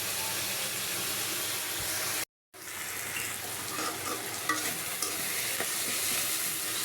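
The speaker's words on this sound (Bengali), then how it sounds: "শাকটা বাগার দিয়ে দিলাম" Malabar spinach greens sizzle and fry steadily in a pan after tempering is added, a loud continuous hiss with stirring scrapes. The sound cuts out briefly partway through, then resumes.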